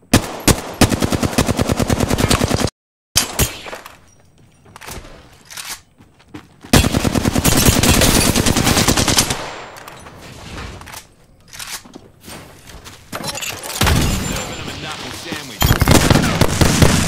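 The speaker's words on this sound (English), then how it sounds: "I hear gunfire to the right" Bursts of rapid automatic gunfire, loud and close, alternating with quieter stretches of scattered shots and crackling, in the video game Apex Legends.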